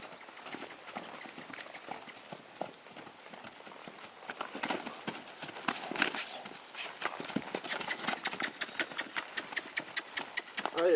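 A chestnut horse's hooves clip-clop on the ground in a steady, quick rhythm, growing louder and closer toward the end, with someone talking faintly over them.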